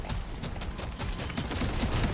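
Rapid bursts of explosions in a dwarf action video game, a dense crackling string of sharp blasts over steady combat noise.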